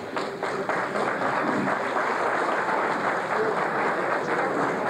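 An audience claps steadily at a harmonica club performance, a continuous mid-level patter of hands with no pauses.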